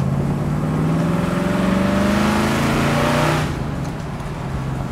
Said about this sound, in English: I'll stay in second gear here, and I'll roll into the throttle